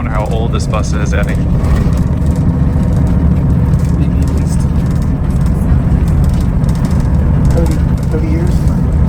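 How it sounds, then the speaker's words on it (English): An old, historic bus drives through the streets of Kursk, Russia, its engine and road rumble steady and close throughout, with people talking intermittently over it. "So we're in a historic looking bus, it looks like."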